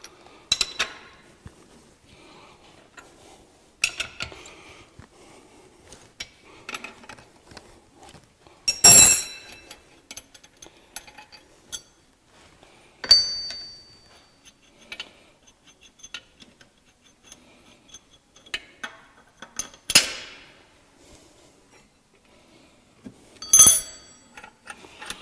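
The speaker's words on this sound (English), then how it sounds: "let's go ahead and grab my wrench here, and we'll get this broken down and get it off the mill" A wrench loosening a setup on a mill table, scattered metallic clinks and ticks with quiet gaps between them, close and moderately loud, with no talking.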